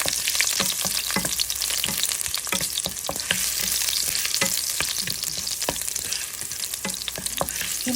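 Garlic sizzling in a hot pan for a simple chicken tinola, a loud continuous frying hiss with scattered crackles and pops, close up and with no talk.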